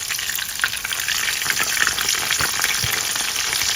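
Dried split fish (daing from Roxas City, Visayas) frying in a pan, a steady dense sizzle and crackle of hot oil with scattered pops, close and continuous throughout.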